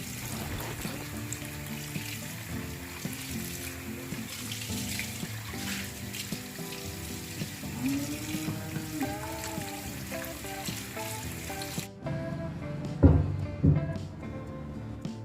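Tap water runs steadily into a sink while a cast iron tawa is washed, a continuous splashing rush with clinks and scrubbing that ends abruptly before a few louder knocks.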